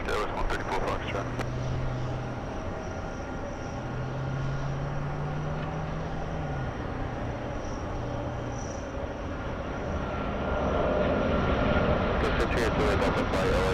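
An Emirates airliner takes off from runway 24 Left at LAX: a steady, broad engine roar that swells louder near the end, with faint talk underneath.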